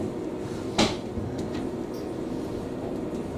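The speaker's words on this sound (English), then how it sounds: "The door closes." A Bosch Classixx 1200 Express washing machine door closing with a stiff seal, giving one sharp, loud thud near the start over a steady low background hum.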